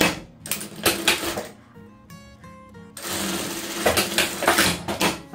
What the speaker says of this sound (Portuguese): E costurando, ó.